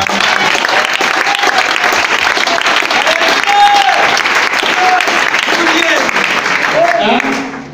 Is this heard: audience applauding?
yes